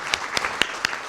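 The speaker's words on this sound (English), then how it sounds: "Please give her a round of applause." Audience applause at a Tiger Bay club debate event, honoring a Sarasota Military Academy student who led the pledge: a steady, moderately loud wash of clapping, with four sharp nearby claps standing out at regular intervals and no voices.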